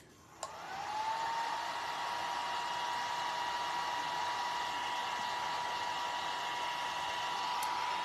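A hair dryer switches on with a click and blows a steady, even whoosh with a thin high whine to dry a scrap wood snowman craft, followed by a faint click near the end.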